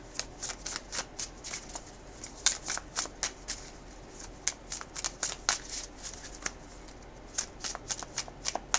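Tarot cards are shuffled close up in quick repeated riffling bursts, sharp papery flicks coming in uneven clusters over a quiet background, with no talking.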